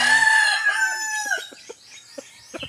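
A rooster crows once, loud and close, its call trailing off into a few short clucks and chirps.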